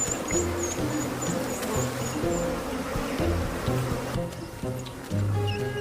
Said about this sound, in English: African honeybees sting 10 times more frequently than their European cousins.